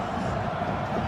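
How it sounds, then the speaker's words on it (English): Sellout stadium crowd murmurs and roars in a dense wash at a North Carolina Tar Heels home college football game against NC State, brief and steady, with a commentator talking over it. "Sellout crowd on hand."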